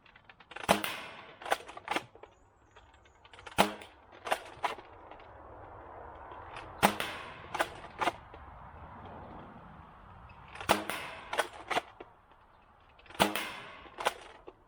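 A Jet Long Shot foam dart blaster fires Adventure Force Pro darts from a 15-round Talon magazine at an outdoor range, sharp close snapping shots coming in quick clusters of two to four with quiet gaps.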